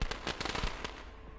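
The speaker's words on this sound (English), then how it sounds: "Why is there a sound on the explosion?" Explosion sound effects in the video game LittleBigPlanet 3: a burst of rapid crackling pops and bangs, loud and dense at first, then thinning into scattered snaps and a fading rumble.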